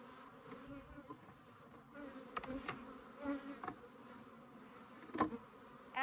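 Italian/Africanized hybrid honeybees buzz steadily at a garden beehive, a close, continuous drone with a few louder passes of individual bees flying near.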